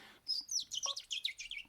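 Someone imitates bird chirps with the mouth, using lips and tongue to produce a quick run of sharp, high whistled tweets in an uneven rhythm, close and fairly quiet.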